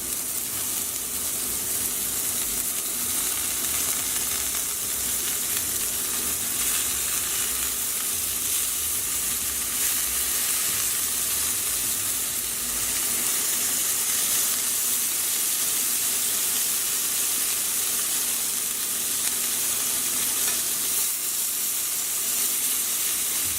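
Blue cheese buffalo turkey meatballs fry in a pan with a steady, close sizzle and hiss that runs unbroken and fairly loud throughout, with no voices.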